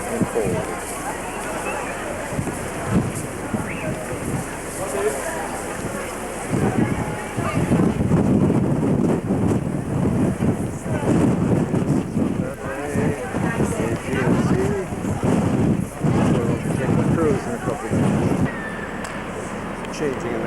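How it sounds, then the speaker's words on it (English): Cold wind gusts across a hilltop in Athens, Greece, producing a steady, rough roar of buffeting against the microphone throughout, with faint voices underneath. "Windy and cold."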